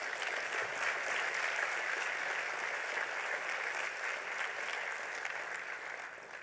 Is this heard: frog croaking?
no